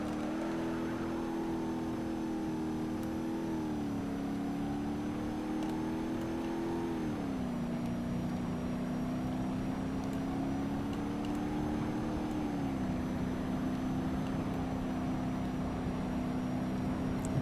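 A 7.3 Powerstroke diesel truck does a burnout in the driving game BeamNG.Drive, its engine holding a steady, loud droning roar that steps down in pitch a few times as it revs continuously with no talking.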